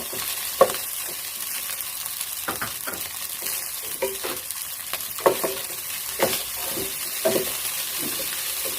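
Cooked shrimp being stir-fried into shrimp paste fried rice with eggs, a soft background sizzle broken by repeated sharp spatula scrapes and clacks against the pan at irregular intervals, close and fairly quiet.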